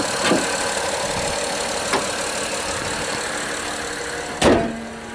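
A Honda Ridgeline Sport pickup's 3.5L 24-valve V6 idles steadily up close, a constant mid-pitched hum with a couple of brief clicks and one louder thump near the end.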